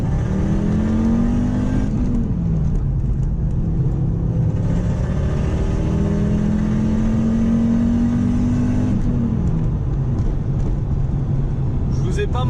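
An Audi S2 pulls hard in second gear, its engine note rising steadily, dropping at a shift, then climbing again; loud and close inside the car, with a voice talking over it.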